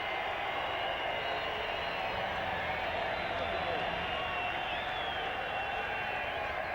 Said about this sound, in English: So something for the large crowd here at Harare Sports Club to cheer about